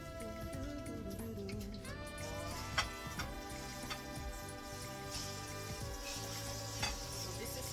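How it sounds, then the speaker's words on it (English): Steady, gentle sizzling of plantains frying in a pan, with a few soft ticks and pops, close by and without talk. "now I have been frying my plantain"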